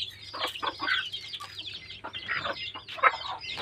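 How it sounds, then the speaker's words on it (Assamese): Backyard chickens and ducks make a noisy, close-up burst of overlapping clucks and squawks, with no talk. "হাঁহ কুকুৰাখিনিয়ে মোকে খাওঁ যেন কৰিছে কেনেকুৱা উৎপাত কৰিছে চাওকচোন"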